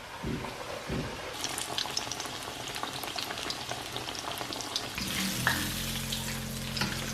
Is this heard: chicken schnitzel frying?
yes